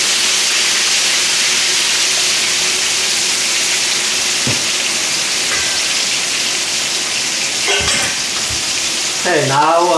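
Pork pieces fry vigorously in hot oil in a wok, a loud, dense, unbroken sizzle and bubbling with occasional scrapes and a clatter near the end; nobody speaks.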